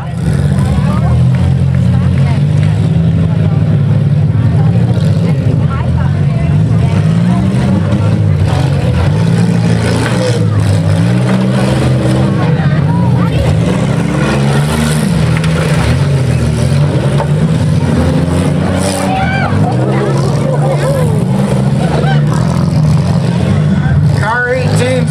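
Demolition derby cars in an all-female powderpuff heat at a county fair, engines droning and revving continuously throughout, loud and close, with speech over the engine noise.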